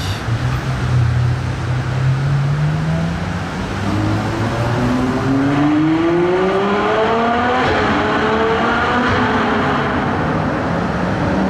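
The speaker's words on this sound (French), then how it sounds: "Ils accélèrent tous." Several modified cars accelerate one after another, engine notes climbing steadily in pitch as they rev hard, loud and continuous over a busy, noisy crowd-like background.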